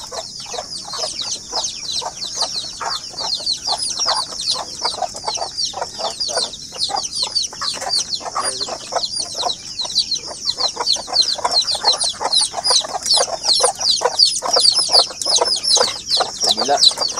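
A backyard flock of native chickens, a mother hen with her chicks, clucks and peeps continuously and fairly close. Rapid overlapping chirps run over low clucks, and there is faint talk.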